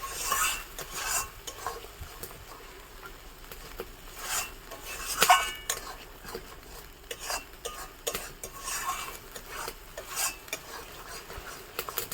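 Spice paste goes into a hot pan of oil for Bengali doi katla (yogurt catla fish) and gets stirred: steady scraping and clinking of a spoon against metal over a low sizzle, with sharper clacks now and then and no talking.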